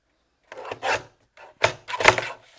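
A paper card blank is trimmed to size with a craft trimmer. Several short, close scraping cuts come in quick bursts with brief pauses between them.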